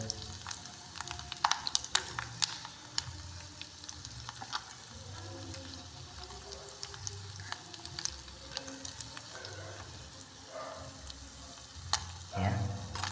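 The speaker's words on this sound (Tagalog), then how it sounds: "Pagprito ng tuyo sa rice cooker." Dried fish (tuyo) frying in a rice cooker gives a steady, moderately quiet sizzle with scattered crackles and pops that keep going throughout.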